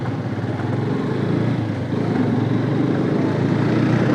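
A new motorcycle is ridden along a road, its engine droning steadily and loudly throughout with constant wind rush and no talking.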